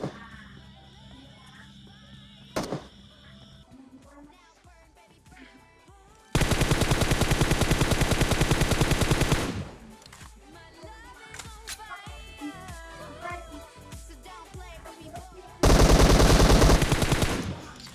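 Automatic weapon fire in the mobile battle royale game PUBG Mobile: several loud, dense bursts of rapid shots, two long sustained volleys and a sharp single crack early on, set against quieter in-game ambience.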